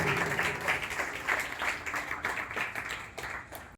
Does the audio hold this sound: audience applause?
yes